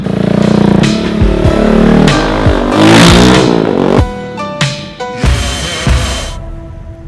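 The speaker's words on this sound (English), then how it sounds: "I really feel every horsepower in this one cylinder engine." A green KTM single-cylinder motorbike revs hard and close, the engine rising and falling through loud bursts with clattering mechanical noise, then settling into choppy, uneven throttle blips.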